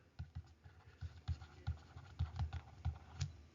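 A pen scratches across paper while a fraction is written out, making a series of quiet, close, irregular strokes and taps with short pauses between them.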